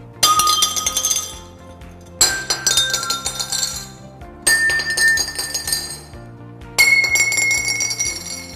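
Metal rods of different lengths are struck one at a time, four ringing hits in all. Each strike gives a bright metallic clang with lingering tones, and the pitch shifts from rod to rod.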